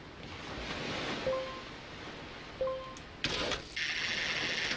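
Ocean surf washes steadily in the Wind Waker game, a broad continuous rush with a couple of short tonal blips and a brighter hiss rising near the end.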